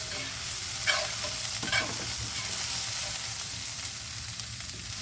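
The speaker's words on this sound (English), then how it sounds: "now the onions are about this consistency, 1 clove of garlic. Stir that in." Garlic is stirred into onions sizzling in a pan, with a steady close frying hiss and a couple of distinct spoon scrapes early on, alone without talk.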